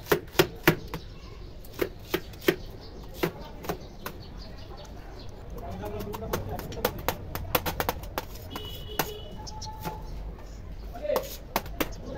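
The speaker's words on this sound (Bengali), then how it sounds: "এখন ধনেপাতা কুচি করে নিচ্ছি" Coriander leaves chopped with a knife on a board, a run of sharp irregular taps, some loud and some soft, over faint background noise; no speech.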